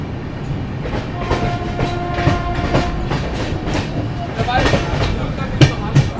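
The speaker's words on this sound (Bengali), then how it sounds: "ফাইনালি আমাদের ট্রেন এসে পৌঁছালো বর্ধমান জাংশন।" Passenger train at Bardhaman Junction platform, with a steady rumble of carriages, a faint rhythmic clatter of wheels and some metallic clanks and screeches. Voices murmur faintly in the background.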